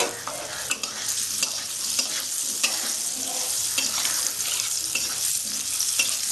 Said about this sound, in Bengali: আলুটা দিয়ে দিলাম আলুটা একটু লাল লাল করে ভাজবো